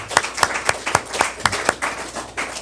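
Scattered hand claps from a small podcast audience, about a dozen sharp, fairly close claps in an uneven rhythm that loosens toward the end.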